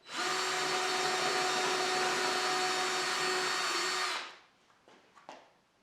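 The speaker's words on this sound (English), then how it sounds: "drilling some holes that would eventually accept some screws to attach the false front" A steady, loud drill whine runs for about four seconds while boring screw holes in a drawer front, then stops abruptly, leaving a few faint clicks and taps.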